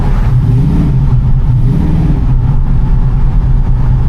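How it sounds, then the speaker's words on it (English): A 1967 Chevrolet C10 pickup with an LS V8 swap gives a loud, steady engine roar with a deep low rumble, building as the truck accelerates, sustained without pause and with no voices. "The motor is super aggressive, but not to where you can't drive it."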